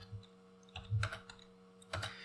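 A few soft keystrokes on a computer keyboard, tapped in two small bursts over a faint steady hum, quiet and close with no talking.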